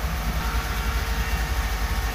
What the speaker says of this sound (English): Man, this fan is noisy,